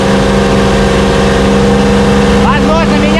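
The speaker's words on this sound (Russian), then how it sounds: "Ребят, сейчас даем газку, проверяем работу мотора." A yacht's outboard motor is revved during break-in at sea in stormy conditions, a loud, even droning hum with a steady pitch, joined near the end by brief rising and falling tonal sweeps; a voice talks faintly underneath.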